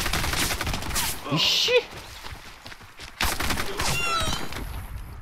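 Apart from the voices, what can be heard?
gunfire in video game Warface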